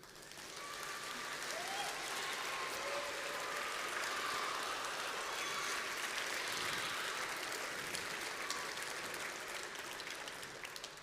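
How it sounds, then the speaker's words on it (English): An audience at a tech talk on AI and developer experience bursts into sustained applause for the sponsors, a dense wash of clapping that swells quickly, holds steady for about ten seconds, then tapers slightly. "Let's give a big round of applause for all of our sponsors."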